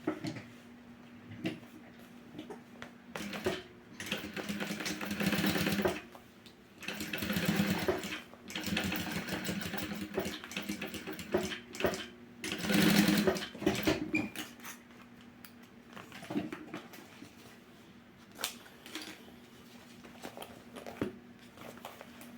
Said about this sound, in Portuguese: E faço uma costurinha aqui de um pezinho de máquina.